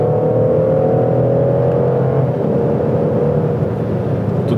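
A car with an 8-speed gearbox, either a Jeep Grand Cherokee or a Chevrolet Suburban, pulls away toward 90 km/h with a steady, loud, rising engine hum and rumble inside the cabin, alone without talk.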